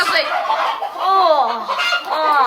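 Hens cluck and squawk close by in a continuous, wavering run of calls.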